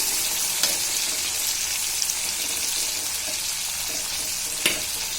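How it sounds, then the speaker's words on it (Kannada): Chopped onion and tomato frying in a pan, a steady close hiss of sizzling oil with a few faint clicks of a spoon stirring. "ಈರುಳ್ಳಿ ಟೊಮೊಟೊ ಹಾಕಿದ್ಮೇಲೆ ಸ್ವಲ್ಪ ಫ್ರೈ ಮಾಡ್ಕೋಬೇಕ್ರಿ. ಚೆನ್ನಾಗಿ ಫ್ರೈ ಮಾಡ್ಕೋಬೇಕು."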